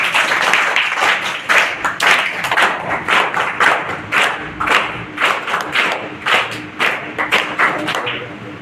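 Steady, dense applause from an audience at a student prize distribution, greeting the first-prize winner; many hands clapping continuously at moderate distance for the whole stretch, with no talk over it.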